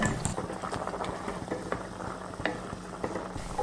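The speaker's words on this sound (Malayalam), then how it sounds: "ഇതിപ്പോൾ തിളച്ച് തുടങ്ങിയിട്ടുണ്ട്" Jaggery syrup with banana bubbles and boils in a pan for a Kerala pazham nurukku, a close, steady simmer of soft popping bursts and liquid burbling with no talk.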